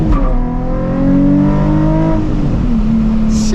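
Nissan 350Z HR engine revving hard as the car accelerates through a U-turn, rising harmonic pitch sweeping up then settling at a steady drone, loud and close from inside the car, no talking.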